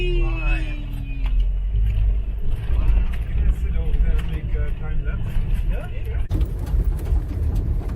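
A car engine rumbles low and steadily while driving on a desert road between Dahab and Wadi Zalaga. People talk over the drone throughout.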